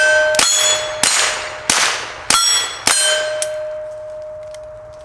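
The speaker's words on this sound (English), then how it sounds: "Let me see if I can go a little faster and still hit these plates here." Pistol shots striking steel target plates, five loud ringing clangs spaced about half a second apart, each with a long metallic ring that fades after the last hit.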